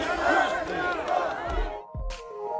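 A large outdoor crowd at a rally for the Brazilian president, shouting and cheering together, loud and close, with a few low thumps toward the end.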